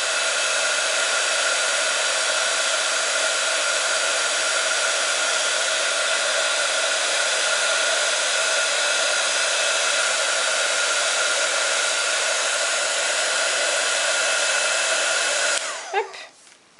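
A heat gun drying puffy embossing paint blows a loud, steady whoosh for about fifteen seconds, then cuts off abruptly with a brief clatter.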